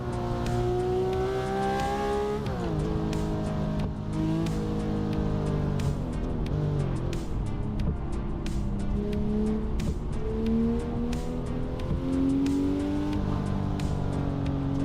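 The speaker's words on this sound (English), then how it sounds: "Let me drive a little bit here with the Porsche" A Porsche race car in a driving video game, with a loud continuous engine note that revs up and down through gear changes and occasional tire squeal.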